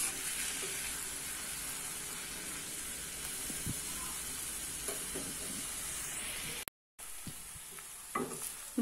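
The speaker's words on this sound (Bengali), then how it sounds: "এখন করলা ভাজিটা বসিয়ে দিলাম।" Bitter gourd (karela) fries in a pan with a bright, steady sizzle, broken by occasional scrapes and stirring clinks of a utensil, heard up close, with a brief silent gap before the frying resumes.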